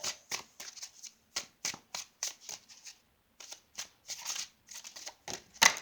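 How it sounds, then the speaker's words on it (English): A deck of tarot cards is shuffled by hand in a series of short, crisp riffling and sliding bursts with brief pauses between them, close and fairly quiet, with no voices. "Let me pull a few cards, three more, for guidance or advice."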